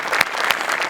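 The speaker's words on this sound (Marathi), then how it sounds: "जोरदार टाळ्या झाल्याच पाहिजे." Loud audience applause at a Marathi comedy and dance show with tabla, a dense burst of clapping from a crowd that runs steadily through the moment with a few sharper peaks.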